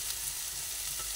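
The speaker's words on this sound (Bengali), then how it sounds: "পোস্ত দিয়ে দিলাম, আবার ভালোভাবে নাড়াচাড়া করে নিচ্ছি।" Poppy seeds are stirred into frying onions, giving a short, faint, even sizzling hiss with no distinct strokes.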